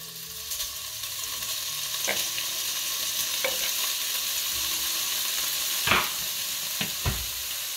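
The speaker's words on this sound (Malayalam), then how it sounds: "ഫാറ്റിൽ തന്നെ അത് നന്നായിട്ട് ഫ്രൈ ആയി ക്രിസ്പായി കിട്ടും" Chopped bacon sizzles steadily in its own fat in a hot pan while cooking for a keto carbonara, with occasional sharp scrapes and clinks from stirring.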